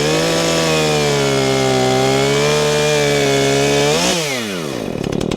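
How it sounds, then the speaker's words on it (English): A Husqvarna gas chainsaw roars at full throttle through a medium-sized log, its engine pitch steady, then dropping and rising again as the cut finishes, loud and close. "And that was 2 cuts in a medium-sized log with the Husqvarna."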